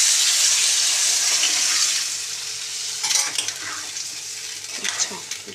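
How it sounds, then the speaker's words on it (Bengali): Water is poured into a hot cooking pot, giving a loud hissing sizzle that fades after about two seconds. Softer stirring and bubbling sounds follow. "এবার আমি জলটা দিয়ে দেবো।"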